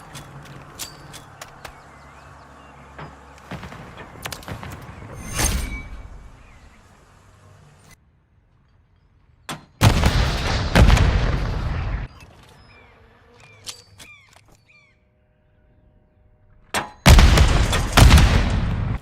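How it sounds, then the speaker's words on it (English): Three bursts of grenade explosions in Modern Warfare III on the Favela map, each a loud, booming blast that rumbles on for a second or two, with quieter scattered gunfire and game noise in between. "Maybe you just start chucking your nades."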